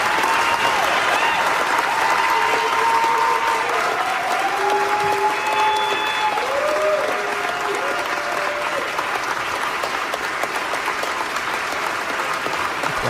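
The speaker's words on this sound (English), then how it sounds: "They erupted into applause." Sustained thunderous applause from a legislative chamber after an amendments vote, dense and continuous for several seconds with faint voices mixed in.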